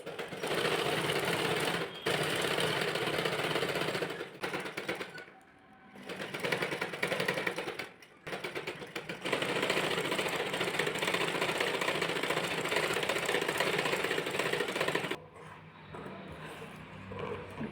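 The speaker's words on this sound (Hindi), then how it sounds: "इसको साइड में रखते हैं और इसको सिलाई करके पलट लेते हैं।" Sewing machine stitching blouse fabric and a belt piece, a loud steady whirring run for most of the stretch, broken by a few short pauses and easing off near the end; no talking.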